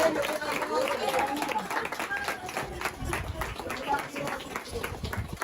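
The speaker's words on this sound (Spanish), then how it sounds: "Alguien puede dar un aplauso a Dios." A church audience claps continuously throughout, with a crowd murmur and voices calling out mixed into the steady patter of hands.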